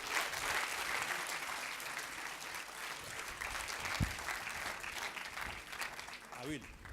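Applause from an audience at a French editorial awards ceremony, a steady, dense clapping that carries evenly across the whole stretch without letting up, filling the room.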